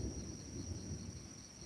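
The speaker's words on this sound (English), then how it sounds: "You hear the thunder?" Low distant thunder rumbles steadily beneath the steady hiss of rain and insects at an outdoor hammock campsite, faint and continuous without a sharp crack.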